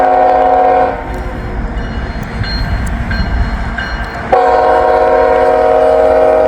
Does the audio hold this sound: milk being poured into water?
no